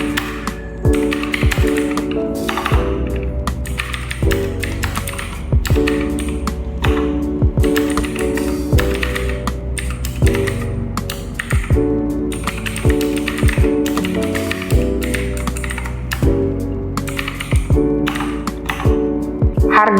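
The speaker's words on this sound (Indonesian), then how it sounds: "Kurang lebih seperti ini suara keycaps dengan Blue Switch." Mechanical keyboard with Blue Switch keycaps being typed on, giving a steady stream of crisp, clicky keystrokes in uneven bursts, close and fairly loud with no talking.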